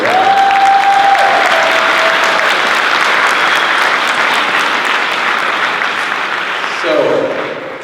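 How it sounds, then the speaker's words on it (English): A crowd at a Juneteenth kickoff event in San Francisco City Hall applauds loudly, the dense clapping easing slightly over several seconds. A tonal sound at the start and a brief voice near the end sit under it. "you deserve a round of applause for all of you"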